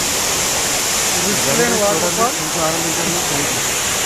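Steady, broad rushing roar of a waterfall in West Godavari fills the whole stretch, with faint voices briefly rising through the middle.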